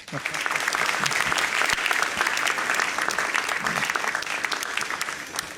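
A roomful of people at an awards ceremony in Ghana applauds steadily, a dense wash of clapping that holds at an even level throughout.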